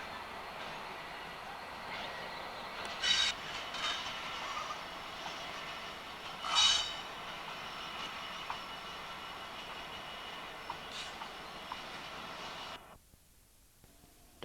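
A Class 66 diesel locomotive backing a freight train with a brake van up a colliery branch line, a steady rumbling roll with a couple of brief metallic squeals, fading off near the end.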